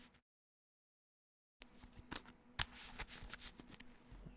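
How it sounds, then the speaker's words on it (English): Playing cards are shuffled close by during a Magic: The Gathering legacy match, with a repeated riffling flutter and snappy card slaps after an opening stretch of near silence. "Just in case you need some shuffling noises."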